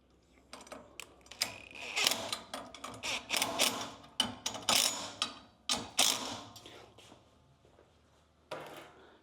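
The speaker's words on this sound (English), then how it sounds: "And that's as low as the boom can go." A 12-foot boom being lowered makes irregular bursts of mechanical clicking and ratcheting, with short pauses between, close by and fairly loud, ending in a final clatter.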